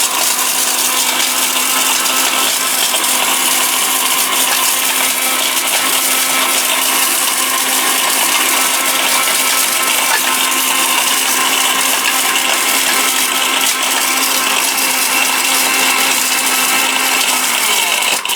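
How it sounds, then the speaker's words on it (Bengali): A robot food processor used as a vegetable cutting machine runs at full power, a loud, constant motor whine and grinding roar lasting the whole stretch without pause, with no voices over it. "এমন এক ব্লেন্ডার নিয়ে আসছি, পাগলা ব্লেন্ডার"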